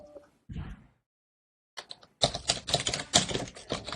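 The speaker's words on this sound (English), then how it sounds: "We're hearing some typing and static." Rapid, clattering keyboard keystrokes picked up on an online meeting call, tapping out a dense, uneven rhythm, close and fairly loud, after a brief muffled sound and a short pause.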